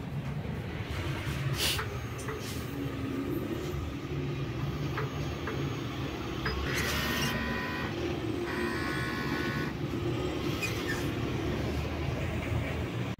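A sublimation printer runs a nozzle test with a faint, steady mechanical hum and a few brief whirring motor passes, heard alone at low level.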